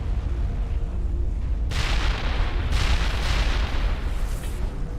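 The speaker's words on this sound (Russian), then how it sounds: "Взрыв." An explosion in the 2007 PC game Mass Effect: after low rumbling ambience, a sudden loud booming blast erupts and rolls on with further heavy bursts, no speech over it.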